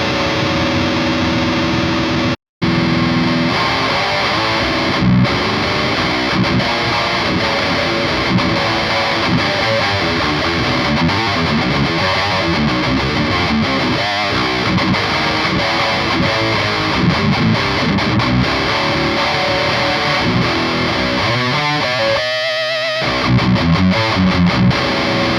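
Distorted electric guitar played through a Celestion Creamback G12M heavy magnet speaker, 8 ohm version, in a steady, dense high-gain tone with one brief dropout early on, loud and continuous throughout.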